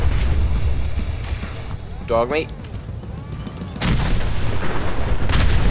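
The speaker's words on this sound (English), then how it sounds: "Things got particularly exciting when a super mutant set off the fireworks." Fireworks exploding in the Fallout-style video game, set off by a super mutant: a dense rumble of booms and crackles, with a louder burst near the end and a brief voice calling out in the middle.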